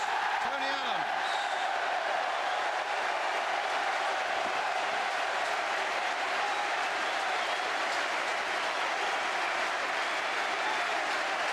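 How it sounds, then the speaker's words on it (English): Football crowd at the 1998 FA Cup Final between Arsenal and Newcastle United applauding Arsenal, a steady, dense wash of clapping and crowd noise from a large stadium throughout, with a commentator's voice briefly heard. "applause for Arsenal, let it be reported, from all the Newcastle fans here"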